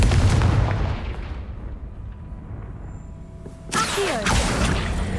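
A Confringo fire spell in Hogwarts Legacy bursts with a heavy booming blast that rumbles and decays, then a second sharp explosive impact with crackling debris follows, loud and close.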